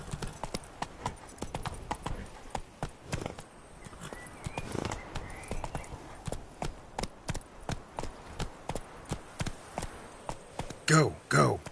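The horse Roach from The Witcher 3 gallops in a quick, steady run of clip-clopping hoofbeats with a few louder strikes near the end; a voice speaks briefly over it.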